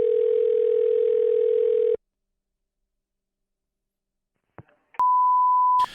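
Steady telephone dial tone plays loudly for about two seconds, then silence, a few faint clicks, and a single sustained beep tone near the end while calling a coin shop.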